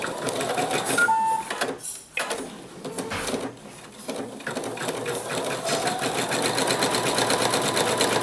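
A sewing machine runs steadily while stitching around the perimeter of an owl mug rug, its fast mechanical whir continuous and close, with brief pauses and a few clicks as the fabric is repositioned.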